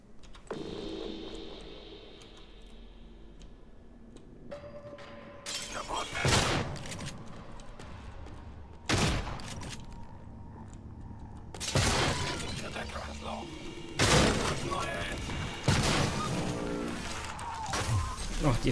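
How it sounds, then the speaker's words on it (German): Explosions in the video game Prey: several sharp, loud bursts go off a few seconds apart, each a short crashing blast, against a quieter background hum of the game. "Ach, die explodieren ja, das habe ich vergessen."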